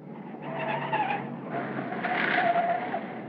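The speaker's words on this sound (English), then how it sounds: "Taxi driver was drifting." Tires of a 1950 taxi squeal and skid as it drifts, a brief rising screech over engine rumble, fairly close and loud, then easing and swelling again.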